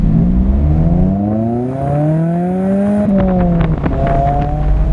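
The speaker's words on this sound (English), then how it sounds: "I'm not a big fan of how loud, raspy four cylinders tend to sound" A Mazda MX-5 Miata four-cylinder engine with a raspy aftermarket exhaust revs up steadily, then drops and climbs again, loud and close.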